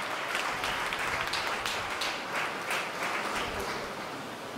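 Audience clapping at a school talent-hunt award ceremony, a steady wash of many hands applauding together, moderately distant and continuous throughout.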